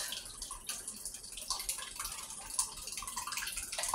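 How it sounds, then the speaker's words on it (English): Canned beef broth pours into an enamel cast iron pot as a soft, steady liquid splash with light dripping. It stays fairly faint and continuous throughout. "this is a can of beef broth. I'm gonna add it"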